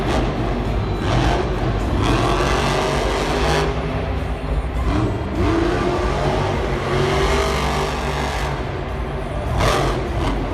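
Monster trucks at a Monster Jam event in Glendale roar continuously, engines revving and surging loudly with repeated acceleration bursts across the arena, no voices present.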